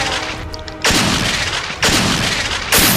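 Shotgun blaster firing in a VR Star Wars mod: three loud, broadband blasts about a second apart, each sustaining a roaring burst, with no talk.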